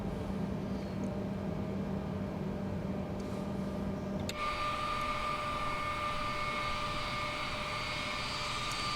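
Boeing 787 Dreamliner taxiing in Microsoft Flight Simulator at Mauritius, a steady simulated jet engine drone with a constant whine that brightens and grows louder about halfway through, continuous and alone with no talk.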